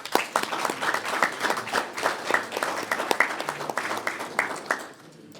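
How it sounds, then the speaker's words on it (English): A room applauds a property committee at a county commission meeting, a mid-sized burst of clapping with clear individual hand claps that holds steady and then stops abruptly near the end. "they deserve a round of applause"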